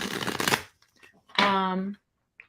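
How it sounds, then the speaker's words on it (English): Cards of a Wiser Tarot deck riffle in one loud, crisp burst of about half a second, preceded by a brief voice and followed by a few faint taps. "let me shuffle some cards"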